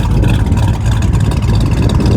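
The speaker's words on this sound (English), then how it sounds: "Yeah, you can definitely hear that little exhaust now. Sounds great back here." A 1969 Chevrolet Chevelle 396 Yenko tribute with a 4-speed runs close by, its engine and small exhaust giving a loud, continuous, throaty low rumble with no pauses.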